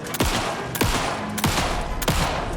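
Four sharp gunshots ring out at an even pace, about two-thirds of a second apart, loud and close, each followed by a short ringing tail, in the Alan Wake II video game.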